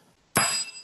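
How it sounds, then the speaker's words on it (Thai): One bright metallic ring from a bell pressed by room staff as a time warning at an academic engineering conference session, a sudden strike that rings on with sustained shimmering tone. "ลองกดกริ่งตัวอย่างให้ฟังเลยค่ะ"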